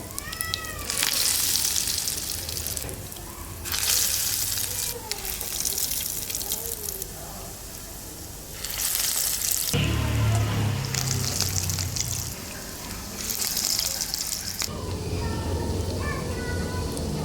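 Potato egg kababs fry in a pan with a steady sizzle that swells and fades in bursts, while cat-like meows and running tap water break in now and then.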